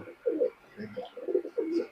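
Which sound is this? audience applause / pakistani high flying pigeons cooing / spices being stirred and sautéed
pakistani high flying pigeons cooing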